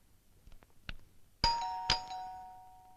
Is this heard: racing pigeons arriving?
no